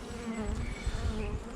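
Honey bees buzz steadily at a hive in warm sunshine by the sea, a dense close drone with a sustained hum layered over rustling, continuous throughout.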